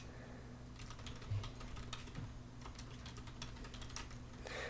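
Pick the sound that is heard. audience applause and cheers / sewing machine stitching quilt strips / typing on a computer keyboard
typing on a computer keyboard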